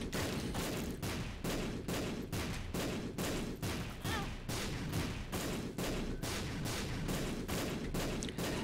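Repeated bomb blasts in the video game The Binding of Isaac: Rebirth, a steady, evenly spaced series of booming thuds that continues without a break and with no talk.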